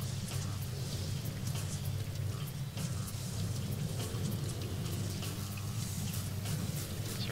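Steady rain hiss with low rumbling thunder from a Call Lightning spell in the online game DDO, a continuous dense wash with scattered crackles and no breaks.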